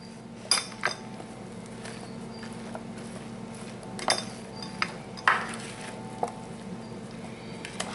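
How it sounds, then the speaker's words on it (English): Baked mixed vegetables are stirred in oil and butter in a pan, with a few sharp metallic clinks and scrapes of a utensil against the pan scattered over a quiet background. "I'm going to stir them up a little bit here to get the mixture of the oil and the butter on them"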